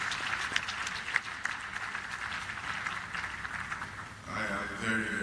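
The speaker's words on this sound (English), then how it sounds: "a round of applause." Audience applause at a leadership colloquium honouring a pastor's birthday, a fairly faint, steady patter of clapping with crowd noise, shifting near the end as other sounds come in.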